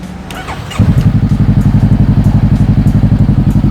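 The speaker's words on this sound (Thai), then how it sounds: "ท่อจะนุ่มๆเลยนะครับ นุ่มมากเลย" A Honda CBR500R motorcycle engine fires up and settles into a loud, steady, throbbing idle with a deep rhythmic exhaust pulse, close to the listener.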